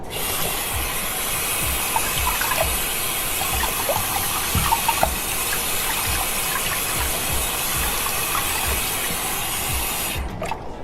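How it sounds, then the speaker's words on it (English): Tap water runs steadily onto a deep black water-resistant product, a constant broadband rush with faint splashing flicks throughout, loud and close, stopping near the end. "So I'm going to just turn on the water first."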